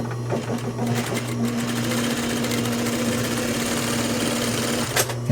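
A sewing machine edge-stitches a sleeve cuff, running as a loud, close, steady mechanical whir with rapid needle chatter. It runs unbroken almost to the end, then stops with a brief clunk.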